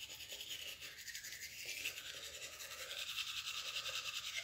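Toothbrush scrubbing across the outer surfaces of teeth, a close, steady brushy rasp with rhythmic back-and-forth strokes that grows slightly louder toward the end, no talking.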